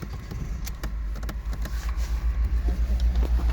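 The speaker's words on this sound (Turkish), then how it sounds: "Aracı bir çalıştırayım." A 2013 Ford Focus engine turns over and settles into a low, steady idle rumble that pulses gently as it runs, heard from close by with no talking.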